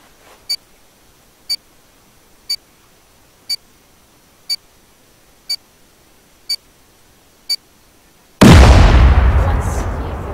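C4 explosive on a wood wall in the game Rust: eight evenly spaced short electronic beeps ticking down at one-second intervals, then a sudden loud booming detonation that rolls off into a long fading rumble.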